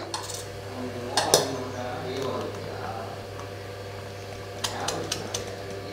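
Fermented appam batter being mixed in a metal vessel, with clinks and scrapes of a spoon against the sides in two brief bursts over a steady background hum.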